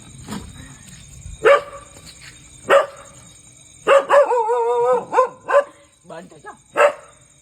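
A pet dog barks in short, loud bursts spread across the clip, with a few yips and a whiny, wavering vocal stretch in the middle, all close to the microphone.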